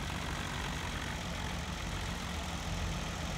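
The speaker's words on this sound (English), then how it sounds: "This is an awesome little tractor." A small tractor idles steadily in Farming Simulator 2017, a low continuous engine drone that stays even and unbroken throughout, with no talk over it.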